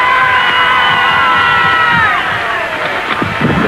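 A large election-night crowd cheers and shouts for president-elect Kennedy, with a dense, loud roar of voices and high whoops sustained throughout.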